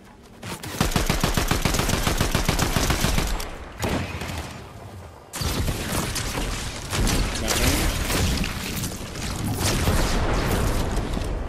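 Rapid bursts of gunfire from a new shotgun in a video game, loud and close, with dense repeated shots that pause briefly and then resume.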